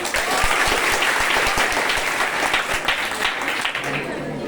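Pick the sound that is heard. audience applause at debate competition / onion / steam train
audience applause at debate competition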